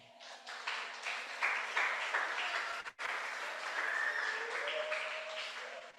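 Church congregation applauding, a steady wash of clapping at moderate distance with a brief dip midway and a faint sustained tone running underneath.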